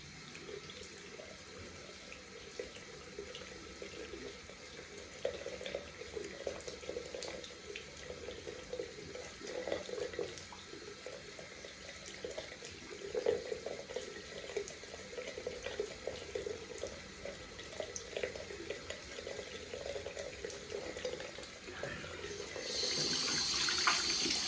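Water running steadily from a tap while hands are washed, a continuous close splashing rush with small fluctuations that grows slightly louder toward the end.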